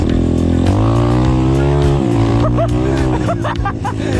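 An Apollo Sano DMZ 250 dirt bike revs hard on a forest dirt trail, its close, loud engine note climbing and holding through a sustained acceleration, with brief chirping bursts near the end.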